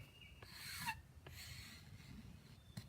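A drawknife or scraper rasping along a bow of green wood, shaving it down to a single annual ring, in faint, drawn-out scraping strokes with short gaps and a few light knocks.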